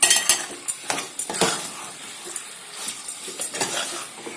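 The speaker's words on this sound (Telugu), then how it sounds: "తర్వాత దీన్ని కలపాలండి" Methi chicken masala stirred in a pan with a metal spoon, giving irregular close scrapes and clinks against the pan over a faint background sizzle.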